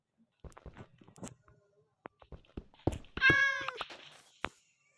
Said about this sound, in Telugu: క్యాట్ అయితే వచ్చింది